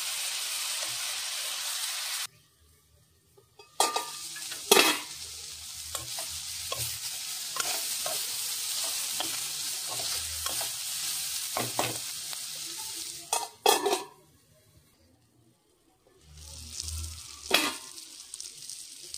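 Broccoli fries in hot oil with a strong sizzling hiss and stirring taps and scrapes, and the sizzle stops twice before starting again.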